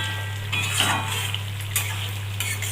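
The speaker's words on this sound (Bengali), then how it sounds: "ভেজে রাখা মাছগুলো দিয়ে দেবো ভালো করে নেড়ে নিচ্ছি" Fried katla fish is stirred in a hot pan, with a spatula scraping and knocking the metal over a low sizzle and a steady hum. Close and moderately loud, with no talking.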